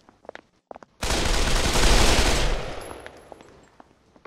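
A sudden, loud, sustained burst of automatic gunfire in the VR shooter Pavlov cuts in after a few faint clicks, roaring for about two seconds before tapering into a fading tail with scattered sharp pops.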